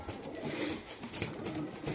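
Pigeons coo softly and repeatedly in a loft where birds are being readied for shipping, their low rolling calls layered over a busy, noisy background.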